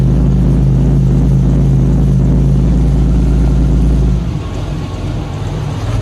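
A John Deere 6810 tractor fitted with a Cummins engine idles loudly and steadily up close, then the deep drone drops in pitch and eases off slightly near the end.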